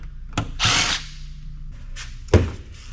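A power drill with new bits drives screws, giving short whirring bursts separated by quiet gaps, with a couple of sharp thunks as the bit seats.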